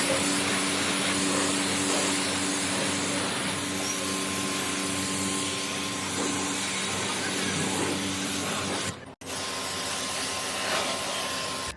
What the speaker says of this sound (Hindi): जेट पंप लगाने के बाद इंडोर और आउटडोर को वॉश करना चालू करता हूँ।